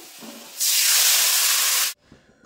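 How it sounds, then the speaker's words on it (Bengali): Water is poured into a hot pan of fried potatoes and bursts into a loud, sustained steam hiss for over a second, then stops abruptly, leaving quiet background noise. "আলুগুলো ভাজা হয়ে গেছে, এখন ঝোলের জন্য জল দিয়ে দেবো।"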